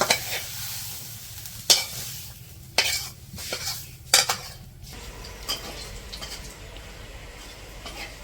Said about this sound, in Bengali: এই শুকনো মরিচ ভাজবো